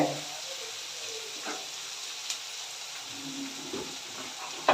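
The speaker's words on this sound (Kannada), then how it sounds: "ಕರಿಬೇವು ಸ್ವಲ್ಪ ಇದು ಬೇಗ ಫ್ರೈ ಆಗೋಕ್ಕೆ" Curry leaves sizzle in hot oil for a bitter gourd gojju, a steady soft frying hiss with a few faint pops and light crackles, no talking over it.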